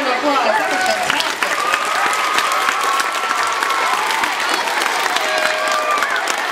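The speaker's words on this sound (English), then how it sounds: "Let's give him one more round of applause." Elementary school audience applauding a young Rubik's cube speedsolver, loud continuous clapping with some cheering and voices mixed in, sustained at an even level throughout.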